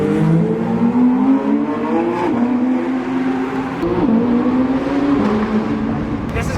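Loud, close engine of a track-focused car, a Lamborghini Performante or Porsche GT3 RS, climbing steadily through the revs with brief dips at gear changes, continuous and dominant.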